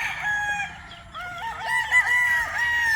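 Chickens and newly hatched chicks in a breeding pen give continuous high, wavering calls and crowing-like cries, fairly close and steady, with no voices.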